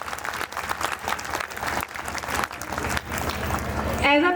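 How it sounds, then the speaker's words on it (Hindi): An audience at a school annual function bursts into loud, sustained clapping that swells over several seconds, with a voice speaking over the applause. "एक बार ज़रा ज़ोरदार तालियाँ खुद के लिए बजाएं जो समय निकाल के अपने बच्चों के लिए आए हैं"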